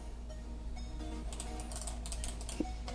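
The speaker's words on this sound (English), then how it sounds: "The buttons are clicky but mushy at the same time" The buttons on a Retron 5 Bluetooth controller are pressed in a quick, uneven run of light plastic clicks. They are close and faint over a steady hum, with one duller tap near the end.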